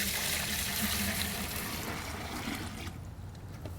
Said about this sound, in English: we're going to pour it in our mix bucket